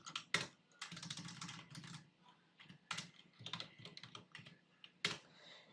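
Rapid keystrokes on a computer keyboard while CSS code is typed, coming in quick bursts with short pauses, close and fairly quiet with no talk.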